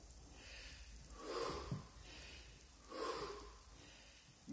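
Heavy, rhythmic breathing comes from a freestyle wrestler doing disc rotation exercises, with two loud, close exhalations spaced evenly over a quiet background.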